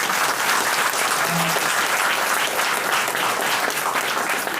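Vigorous applause fills a hall as an audience claps loudly and continuously throughout at a business success event, a dense steady roar of hands with no break.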